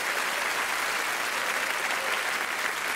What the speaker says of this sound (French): Venez, applaudissez ceux qui ont le courage de monter sur scène avec moi.